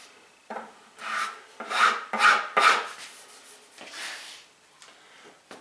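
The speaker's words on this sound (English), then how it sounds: "You always want to sand with the grain." Wood veneer sanded by hand along the grain, making close, rasping strokes in a steady back-and-forth rhythm that swell and fade.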